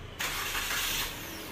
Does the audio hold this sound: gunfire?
no